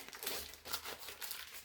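Painter's masking tape being torn off, a short series of crinkly, papery ripping bursts close by over about two seconds.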